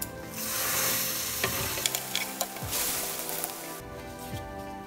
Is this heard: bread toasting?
yes